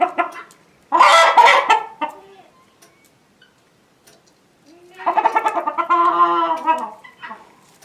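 Chickens clucking inside a closed coop, two close bursts of loud clucking and squawking separated by a quiet pause, with no talking.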